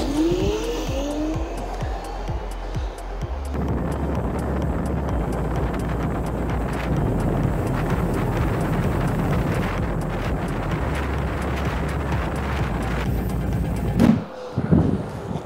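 Nami Klima and Achilleus electric scooters racing over 200 meters outdoors, heard as a sustained loud whine and rush of motors and tires with heavy wind buffeting the microphone, ending with a few brief bumps.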